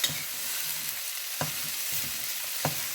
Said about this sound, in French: Et là, je vais remélanger le tout.